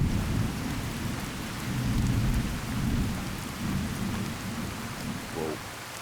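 Video game rain and thunder in Fallout: New Vegas: steady heavy rain with deep rolling thunder rumbling underneath throughout.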